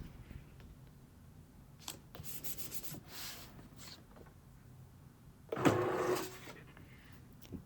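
Cricut cutting machine slicing paper pieces on a mat, giving faint soft scrapes and brief whirring passes, then a louder motorized rub near the end.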